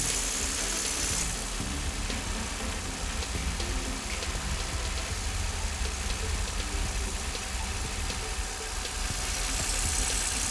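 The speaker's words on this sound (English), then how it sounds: "I'm going to run the car for like 5 minutes" A Lexus ES300 engine idles steadily in one continuous low hum, with a wash of broadband hiss over it, close and unbroken for the whole stretch.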